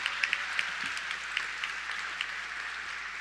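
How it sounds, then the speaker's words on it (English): Scattered applause from an audience at a graduation ceremony, faint and thin, with a few louder individual claps standing out over a steady low hiss. "let's give her another big round of applause"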